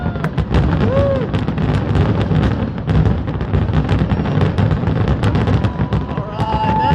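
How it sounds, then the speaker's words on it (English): Fireworks bursting at an outdoor birthday celebration in Pittsburgh, loud repeated booms and crackles in rapid succession with faint whistles, while a crowd cheers and people talk nearby. "That's the fireworks."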